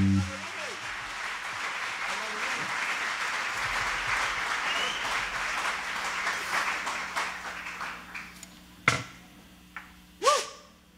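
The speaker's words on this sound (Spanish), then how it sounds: "¿Por qué no le damos fuerte el aplauso a Jesús?" An audience at a worship night applauds loudly and steadily, the clapping fading toward the end as a few sharp knocks and a voice come through.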